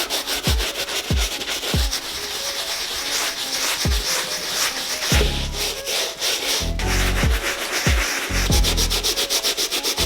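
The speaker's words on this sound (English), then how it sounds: "I'm kind of just doing some surface level scrubbing." A cleaning brush scrubs the upper of a dirty Cream White Yeezy 350 V2 sneaker with light pressure, giving continuous close scratchy strokes in a steady back-and-forth rhythm.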